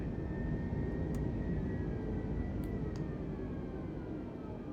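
A low-flying airplane in a flight video game gives a steady, moderately loud engine drone that holds evenly throughout, with no talk over it.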